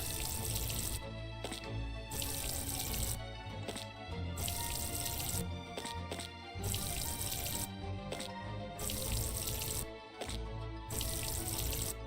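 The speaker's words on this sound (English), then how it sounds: "And then we water." Watering plants in the farming video game Ova Magica, a rushing tap-like water stream in repeated bursts with brief gaps, loud and steady over game music.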